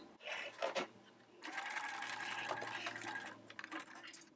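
A sewing machine stitches microsuede fabric in short, close runs, a soft mechanical whir starting and stopping at low volume.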